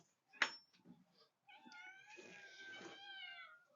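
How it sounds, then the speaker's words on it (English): Cats in a former milking hut on a farm meow close by: one sharp, short cry, then a longer, drawn-out wavering meow. "So now we have our cats in what used to be the milking hut."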